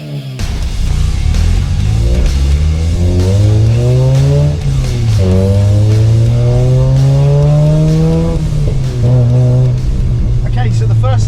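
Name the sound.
Mazda RX8 rotary engine car with loud exhaust revving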